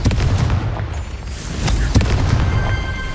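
Confringo blasting spell exploding in Hogwarts Legacy, a rumbling burst with several sharp cracks and thuds over dense, noisy combat effects, fairly loud and close.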